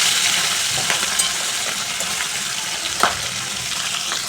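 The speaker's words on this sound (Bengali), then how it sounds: "এক পিঠ ভাজা হয়ে গেছে, আর এক পিঠ ভেজে নিচ্ছি।" Pieces of rui fish fry in hot oil in a pan with a steady, close sizzle throughout. One brief sharper crackle pops out near the end.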